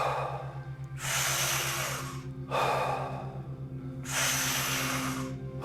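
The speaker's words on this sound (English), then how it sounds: "Deeply breathe into your chest." Deep, forceful breaths during an energizing breathwork exercise, with long rushing inhales and exhales in a steady repeating rhythm over a low background music bed, close and loud with no talking.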